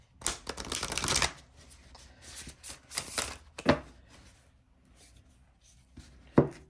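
A deck of clunky divination cards is riffle shuffled and bridged, a loud buzzing flutter of cards followed by softer taps and a few sharp snaps as the deck settles, close up with no talking.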